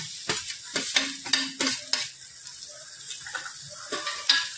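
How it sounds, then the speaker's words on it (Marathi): Cluster beans (gawar) being stirred and fried in masala in a pan, with repeated scraping stirs over a steady sizzle, fairly close and with no talking. "आता आपण टाकणार आहोत ज्या आपण गवारीच्या शेंगा भाजून परतून घेतलेल्या आहेत त्यामध्ये टाकणार आहोत"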